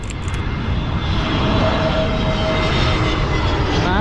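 An Iberia Airbus A321XLR jet passes near Madrid with a loud, steady broadband engine roar, with a faint rising whine threaded through it and no voices.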